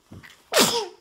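One person sneezes once, up close: a soft in-breath followed by a sharp, loud burst, with no talking over it.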